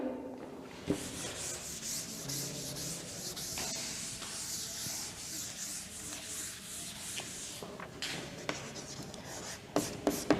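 Classroom board being rubbed clean with steady scrubbing strokes, continuous and moderately loud, with a few sharper knocks near the end and no talking.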